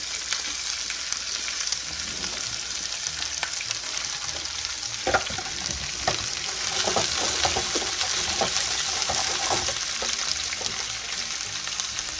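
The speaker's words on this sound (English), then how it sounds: "Yep, should start sizzling." Steady, close sizzling of onions and bell peppers frying in a hot pan, with scattered crackles and pops and occasional stirring scrapes, no voices.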